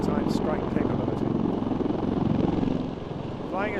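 Naval maritime-strike helicopters displaying at the Eastbourne International Airshow, a steady rotor thrum and engine whine carrying throughout with a commentator talking over it.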